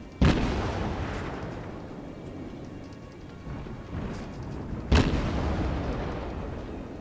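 Heavy naval gun salvos from a Russian cruiser in a warship battle game: two sharp booming blasts several seconds apart, each followed by a long rumbling roar that fills the gaps between them.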